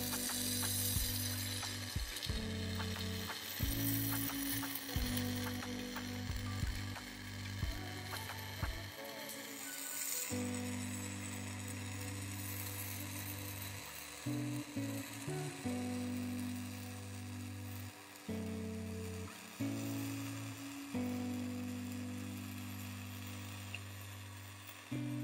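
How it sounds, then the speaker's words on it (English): Flux-cored arc welding on test coupons shielded with straight argon gives a steady, buzzing hum that runs in bursts, stopping and restarting several times, with irregular crackle over it. "We'll be going to straight argon."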